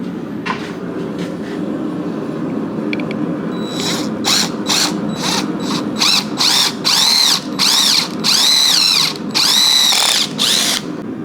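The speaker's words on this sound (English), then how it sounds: "we're going to go ahead and drill those out to 3/16" A power drill bores two 3/16-inch rivet holes in a forged metal ladle handle, with a low motor hum at first, then a string of loud, shrill cutting bursts, each started and stopped sharply.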